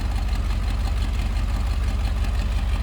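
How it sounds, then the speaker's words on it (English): A 1962 Ford Galaxie 500 XL convertible idles through its dual exhaust, a steady, deep, low rumble heard up close and running unbroken throughout. "Slip around to the back, dual exhaust. Nothing crazy or over the top. Just a nice sounding classic vehicle."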